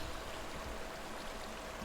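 Water flows steadily over a lip into a stream at a spawning area, a constant faint hiss and rush with no talking.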